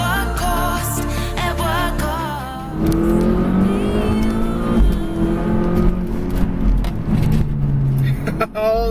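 A 2017 Volvo V60 Polestar accelerating hard, its engine note rising and shifting through gears from inside the cabin, loud and close, with someone talking over it.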